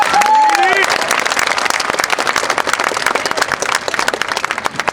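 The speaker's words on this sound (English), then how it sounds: "Can I get one more round of applause for this year's Salutatorian and Salutatorian?" Graduation audience at Mayfair High School applauding the salutatorians, a crowd clapping steadily and fairly loudly, with a brief whistle or cheer at the start and clapping gradually thinning toward the end.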